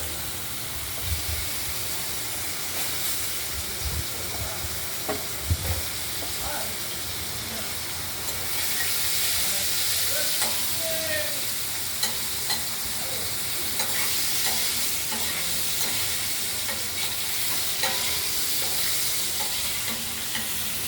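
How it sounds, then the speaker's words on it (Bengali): Cut potatoes fry in a pan of oil for a boal fish curry, a steady close sizzle running throughout with repeated scraping stirs and occasional clatters of the spatula. "আর কেটে রাখা আলুগুলোকে আমরা ভেজে নেব"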